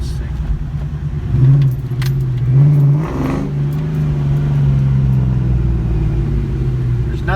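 Cammed 2004 Mustang GT with a 2-valve V8 rumbles at low speed, its deep burbling exhaust reverberating off the side of a nearby building, swelling briefly around two bursts of throttle, heard from inside the car with the windows partly down.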